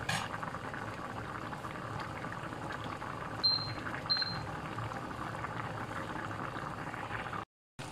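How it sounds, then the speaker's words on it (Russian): Water bubbles away at a steady boil in an uncovered pan of bulgur with chicken fillet and vegetables, a continuous soft simmering hiss with a couple of sharp pops, then a short cut-out near the end. "Ждем, пока выкипит вода."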